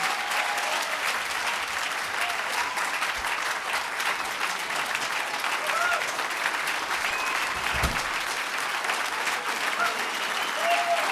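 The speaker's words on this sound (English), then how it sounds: "Let's bring him up right now with a great round of applause." A crowd at a Buffalo transportation funding announcement applauds Governor Andrew Cuomo as he is brought up, steady continuous clapping holding at an even level for the full stretch, with faint scattered voices beneath.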